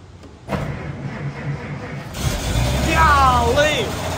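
A 1935 Chevrolet engine being started with the choke pulled: a mechanical cranking rattle, then a louder low rumble as it catches and keeps running, close by, with a person speaking over it.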